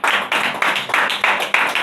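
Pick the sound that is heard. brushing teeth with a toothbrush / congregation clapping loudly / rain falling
congregation clapping loudly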